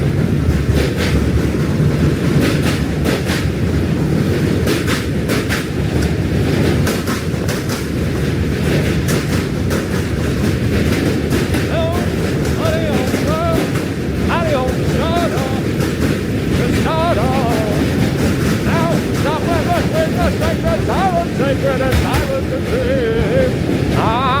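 A train rumbles past in New York City, a loud sustained roar with rhythmic clatter and a few squealing tones, heard alongside wind noise and occasional voices.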